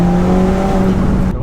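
Volkswagen Golf GTI Edition 30 tuned to 420 bhp, driving fast: loud, close engine drone with steady tonal hum and road roar, cutting off abruptly at the end.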